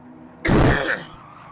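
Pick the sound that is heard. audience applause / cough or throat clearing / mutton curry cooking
cough or throat clearing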